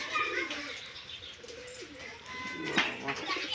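A Giribaz pigeon cooing nearby, soft rolling low coos repeated in a couple of phrases, with faint chirps and light background noise around them.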